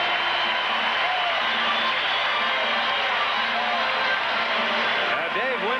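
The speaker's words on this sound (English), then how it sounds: "Just listen to the crowd as Winfield comes to the plate." Baseball stadium crowd at the 1978 All-Star Game in San Diego as Dave Winfield comes to bat: a steady, loud wash of crowd noise that holds throughout, with scattered whistles and voices rising within it.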